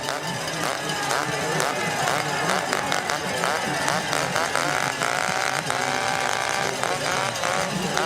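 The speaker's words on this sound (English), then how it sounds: "Past the chainsaws," Chainsaws revving loudly beside the course at a men's elite UCI Cyclo-cross World Cup race in Val di Sole, Italy, a continuous dense roar that fills the whole stretch, mixed with race-side noise and commentary.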